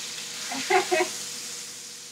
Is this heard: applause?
no